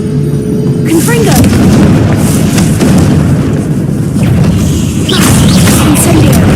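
A Confringo spell blasts in the video game Hogwarts Legacy with loud, heavy booming explosions and crashing debris that fill the scene, mixed with a voice.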